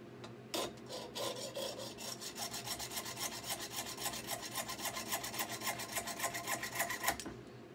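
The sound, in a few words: hacksaw cutting material for a turkey pot call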